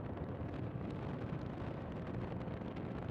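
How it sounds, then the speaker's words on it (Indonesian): Strong headwind buffets a microphone while a motorcycle tours through green countryside in Sumedang, West Java, a constant rough, dense rumble with no letup and no talking. "angin kenceng dari depan."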